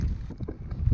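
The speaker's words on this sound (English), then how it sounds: "it's got really windy now up here" Strong gusty wind buffets the microphone on a rainy hilltop in Ireland's Wild Atlantic Way region, producing a brief, loud, rumbling roar with uneven swells over about a second, no talk.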